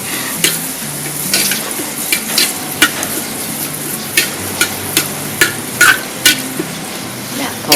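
Kaffir lime leaves fry in a hot pan with a steady sizzle, while a utensil stirs and taps against the pan in repeated sharp clinks, close and loud, with a voice talking over it.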